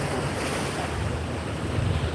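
Ocean waves breaking at Seal Beach during an incoming tide, a dense continuous roar of surf mixed with wind buffeting the microphone, steady and loud with no voices.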